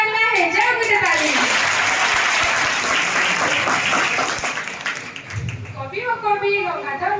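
An audience bursts into sustained applause after a Sambalpuri poem recitation at a Gangadhar Meher Jayanti event; someone speaks before the clapping swells and again as it fades away.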